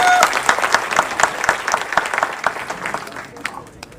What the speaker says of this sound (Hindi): थोड़ी ताली बजाइए सबके लिए एक साथ जोरदार।